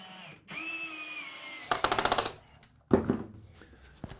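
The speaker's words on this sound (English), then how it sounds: "drill holes in the masonry along the top edge of the plastic where it laps onto the wall" A power drill bores into basement masonry wall in two short bursts, a rapid rattling hammer action, close and loud, separated by a pause, with a faint whine before the first burst.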